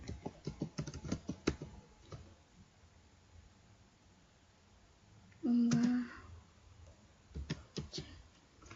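Keyboard shortcuts are typed on a computer keyboard as sharp clicking keystrokes in quick bursts, with a quiet pause in between and one louder clatter near the end.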